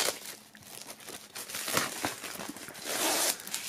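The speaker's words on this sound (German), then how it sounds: "Dann würde ich sagen, wir holen das Ganze mal aus der Folie." Plastic foil crinkles and tears as it comes off a black music box set printed in white, a close, continuous rustling that swells louder toward the end with no talking.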